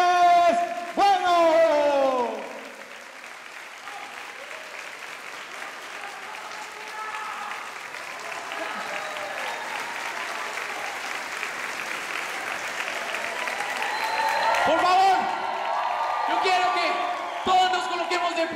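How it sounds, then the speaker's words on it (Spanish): A youth talent show audience applauding to welcome a performer onstage, sustained crowd clapping that swells and carries on for many seconds, with a few voices and shouts over it near the start and end. "Vamos a recibir con un fuerte aplauso a Andrés Bueno"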